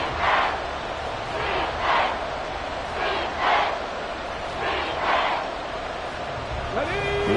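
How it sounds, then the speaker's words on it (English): Football stadium crowd at an NFL Colts playoff game roars continuously, swelling in repeated rhythmic chant-like surges while a broadcast commentator talks over the noise. "This crowd doing all they can."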